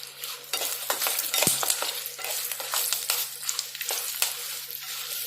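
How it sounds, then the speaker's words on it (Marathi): Chillies and a pinch of turmeric sizzle in hot oil as a tempering for raw mango rice, with a steady bright crackle and repeated stirring scrapes of a spoon in the pan, close and alone. "फोडणी छान कालून घ्यायची."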